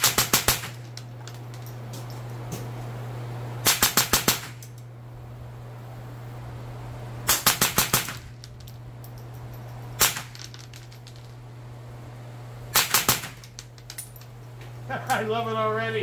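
Shots from a .22 LR firearm fired into a berm outdoors: four sharp clusters of rapid reports, each of a few quick shots, spaced several seconds apart over a steady low hum, with a brief voice near the end.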